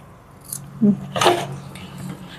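Scissors cut through a paper label in a couple of quick crisp snips close by, followed by faint rustling of the paper in a quiet room.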